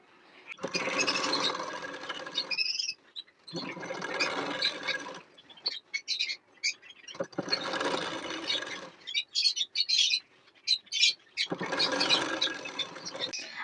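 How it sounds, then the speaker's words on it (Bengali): A sewing machine stitching the sleeve of a nighty runs in four separate bursts of whirring needle motion, each a few seconds long, with quieter clicks and handling noises in the gaps between them. "হাতার সোজা সাইডটি ঠিক এর উপর রেখে আপনারা ঠিক এই মিডিল থেকে বসিয়ে হাতাটি সেলাই করে নেবেন"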